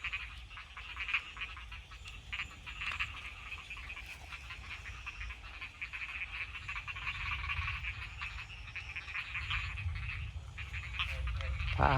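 Many frogs croak in a dense, continuous chorus beside flowing water after rain, with a low rumble of water or wind underneath that grows toward the end.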